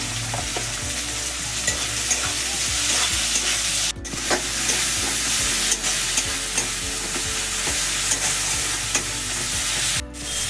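Tomatoes and onions fry with a little salt in a pan for a Rupchanda fish curry, a continuous close sizzle broken by regular spatula stirs and scrapes, with no voices.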